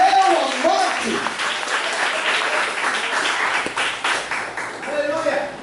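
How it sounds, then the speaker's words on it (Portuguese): Church congregation applause rises into a dense, sustained round of clapping that carries on steadily, with a voice speaking briefly at the start and again near the end. "Você pode dar uma salva de palmas?"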